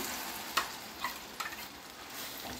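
Ground chutney sizzles in hot oil as a spoon stirs it, and a few distinct scraping knocks sound over a steady, soft frying hiss.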